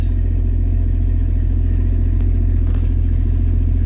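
A 1973 Jeep DJ-5C with its 232 engine runs loud and close in a steady, throbbing low rumble, with a slight rise in revs partway through and no voices.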